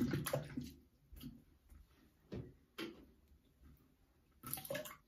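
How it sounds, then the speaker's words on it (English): Quiet splashes and short bursts of running water rinsing shaving soap off a thumb, several separate rinses with pauses between, close by with no talking. "rinse my soap off of my thumb"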